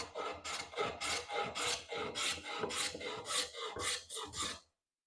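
A hand plane with a cambered iron takes thin, slightly wide shavings from a wooden board in a workshop, making a series of about a dozen rhythmic, close rasping strokes with no talk before stopping.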